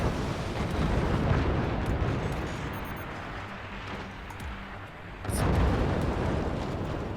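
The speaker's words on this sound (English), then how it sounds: "here comes another salvo" Heavy artillery salvo explosions from the fort-building strategy game Forts, a sustained rumbling barrage of deep blasts that eases off midway, then surges again with a fresh volley and a sharp crack.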